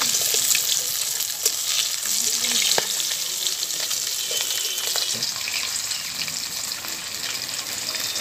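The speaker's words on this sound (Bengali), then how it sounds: "মাছগুলোকে আমি একদম লাল লাল করে একদম মুচমুচে করে ভেজে নিয়েছি।" Rohu and catla fish pieces fry crisp in hot oil, giving a loud, steady broadband sizzle that holds throughout with a few faint clinks and no talk.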